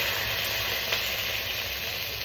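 Beans sizzle and hiss steadily in a hot pan, a continuous close frying crackle with no voices.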